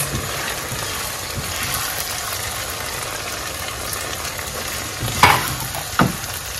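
Tomato sauce hitting a hot pan for a corned beef cabbage stew, a steady loud sizzle that runs continuously, with a couple of brief clanks from a utensil near the end.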